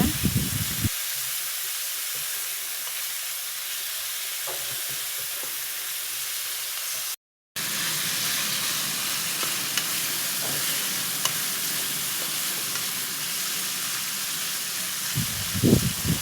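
Sliced pork sizzles and fries steadily in a hot pan while being stirred until golden brown, a constant loud hiss with faint scraping, broken by one brief silent gap midway.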